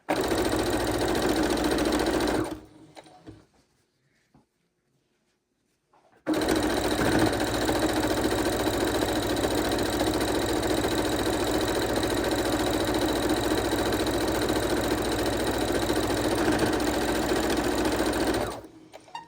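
A sewing machine stitches quilt pieces for a scrappy quilt, running loud and steady with a brief stop in the middle before carrying on without a break.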